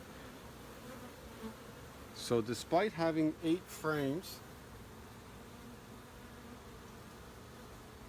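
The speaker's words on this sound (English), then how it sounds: "So you can see the frames are totally covered in bees." Steady, dense buzzing of many honeybees covering hive frames at close range, with someone speaking briefly over it.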